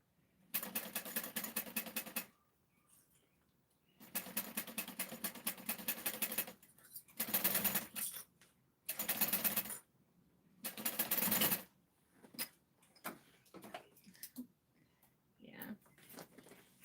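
A sewing machine stitches in several bursts of rapid, buzzing mechanical chatter, each lasting one to two seconds with quiet gaps between, heard up close.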